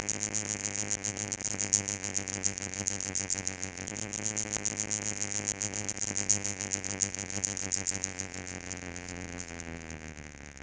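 A Poljot Signal Columbus mechanical alarm watch buzzes with a rapid, rasping pulse that holds for about eight seconds and then fades, close and alone with no voices.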